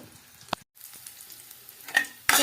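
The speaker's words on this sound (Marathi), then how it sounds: "पॅनमधलं तेल गरम व्हायला आलेलं आहे तर आत्ता आपण पुढची प्रोसेस बघूया सो मी आधी टाकते आहे मोहरी जिरं मी लसूण पण टाकलेला आहे" Mustard seeds, cumin and garlic hit hot oil in a pan for pithla, giving uneven pops and spitting bursts with a thin sizzle between them and a louder crackling flare at the end.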